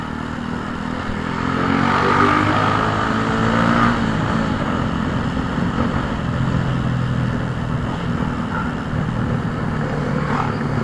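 Traffic surrounds a Honda Wave 110R motorcycle riding through rush hour in the Philippines. A steady, loud engine drone and road rumble carry on without a break, with passing vehicles swelling and fading nearby.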